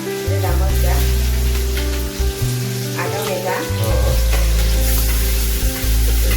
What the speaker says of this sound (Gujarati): વાહ જો વઘાર દેખાણો ને લીમડાનો દોસ્તો લીલા મરચા